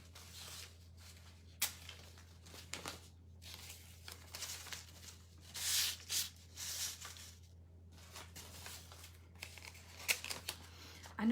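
Tape pulled and torn from a roll while assembling a fall seasonal decor craft kit, a few quiet crackling strips and ripping bursts with pauses between them, over a steady low hum.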